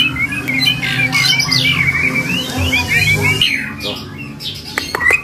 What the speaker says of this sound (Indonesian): ini ada jalak suran. Ini gacor dor nih.